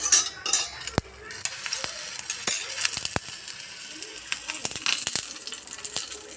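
Ingredients for a homemade hair tonic sizzle in hot oil while a utensil scrapes and clinks against the pan in sharp, irregular taps over a constant frying hiss.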